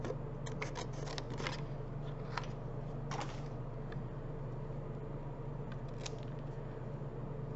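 Scissors snip through paper in a quiet crafting setup, with a handful of short crisp cuts clustered early and a couple later, faint over a low steady hum.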